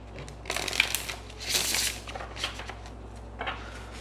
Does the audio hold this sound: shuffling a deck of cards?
yes